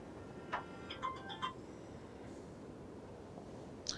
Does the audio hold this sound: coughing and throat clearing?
no